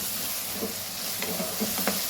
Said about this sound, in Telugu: ఒకసారి తీసుకొని కలుపుకొని ఆనియన్ సాఫ్ట్ అయిపోయిందా లేదా చూసుకోవాలి